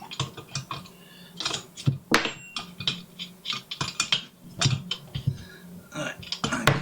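A tommy bar working on a T150 cylinder head gives close, irregular metallic clicks, ratcheting taps and clunks spread across the stretch, with faint low voice sounds at times.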